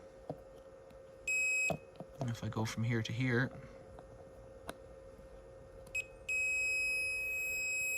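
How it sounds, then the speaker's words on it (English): Two bursts of a steady high multimeter continuity beep, one brief early and a longer one at the end, with someone speaking briefly between them, while repairing a Miele Novotronic W1613 washing machine. "So the beep should beep."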